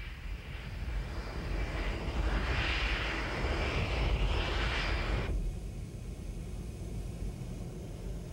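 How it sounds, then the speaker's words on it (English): A Handley Page Victor tanker aircraft flies past with a loud, steady jet roar that swells in the middle and then eases off, and no voices over it. "These are the fuel tankers of the air."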